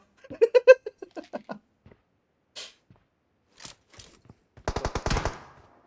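Gunfire in the mobile battle-royale game PUBG Mobile: a rapid burst of automatic shots near the end, with scattered single reports and clicks earlier.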